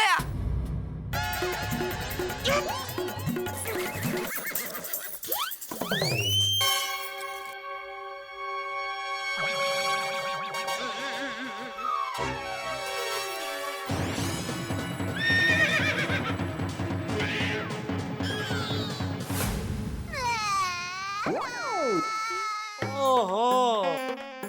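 A horse neighs and whinnies repeatedly in a comedy scene, loud shrill calls with descending pitch sweeps, mixed with hoof clip-clops and crying voices.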